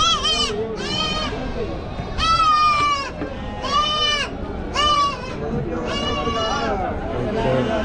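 Goats bleat repeatedly at the crowded Chakan livestock market in Maharashtra, several loud, wavering calls close by over a din of chatter and general market noise.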